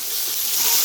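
Garlic and vegetables sauté in a hot pan, giving a steady, close sizzling hiss that fills the brief moment without any talk.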